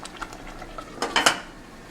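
A lid is set onto a pot of Nigerian tomato stew, with light metallic clinks and a couple of sharper clatters close by, followed by a soft scrape.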